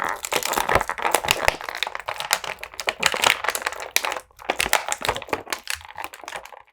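Plastic packaging of a Star Wars Black Series 6-inch action figure being crinkled and pulled apart up close, irregular crackling bursts with brief pauses between them.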